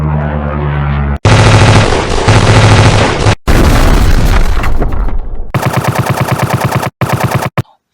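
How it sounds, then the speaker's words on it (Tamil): Wartime gunfire in a documentary about the German Blitzkrieg: loud, dense machine-gun bursts and rapid rattling volleys, broken by a few abrupt pauses and a final sputter of shots. "முதலில் விமானங்கள் தாக்கும், பின்னர் டேங்குகள் பாயும், அதன்பின் துப்பாக்கி சத்தம்."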